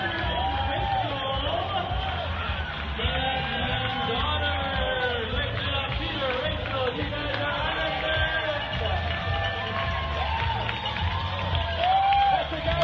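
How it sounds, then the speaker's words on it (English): A large crowd at the Ironman Boulder finish line near midnight cheers and shouts continuously, a dense roar of voices and whoops with a commentator talking over it. "a lot more crowds definitely come out to cheer on the last finishers"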